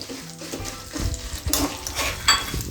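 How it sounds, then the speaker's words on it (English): Golden sautéing of red chilies and lemon juice mixture in a pan for an Andhra Pradesh dish, with soft stirring scrapes, light sizzling and occasional utensil clinks against the pan, steady and close throughout. "Saute for a while till they turn gold color."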